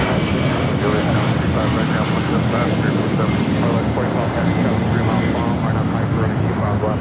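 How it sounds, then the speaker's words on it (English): A 27-year-old Delta Airlines Boeing 757-200 taking off from LAX, a loud, sustained jet engine roar with a rumbling low end that stays powerful throughout, with a voice talking over it. "This departure is Delta Airlines 437 taking off to Boston on a 27-year-old 757-200."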